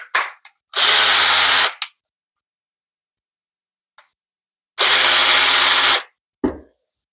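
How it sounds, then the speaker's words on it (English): A small sander driven by a Black and Decker Matrix motor on a Craftsman bolt-on setup runs in two loud, steady bursts of about a second each, separated by silence and a few brief clicks. "A little sander."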